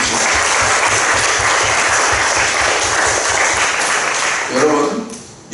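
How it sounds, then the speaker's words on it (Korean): A church congregation claps loudly and steadily in unison with a brisk, even beat. The applause fades out near the end, and a voice rises over it. "우리 하나님께 영광의 박수 올려주십시오"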